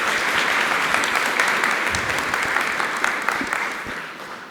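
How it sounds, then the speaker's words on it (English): A conference audience at a Python talk claps warmly: dense, even applause filling the room, fairly loud and sustained, then gradually thinning toward the end. "Please give them a nice round of applause."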